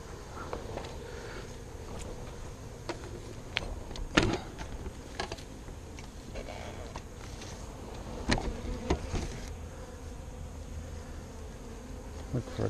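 A swarm of honey bees buzzes steadily during a frame-method swarm capture in Texas, a dense close hum with scattered louder passes and faint bumps, no speech.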